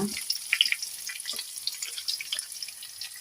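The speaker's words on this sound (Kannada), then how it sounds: "ಒಗ್ಗರಣೆ ಆಗ್ತಾ ಇದೆ" Garlic sizzling and crackling in hot oil as a tempering for Andhra-style tomato pappu, a steady close hiss with scattered pops and spits throughout.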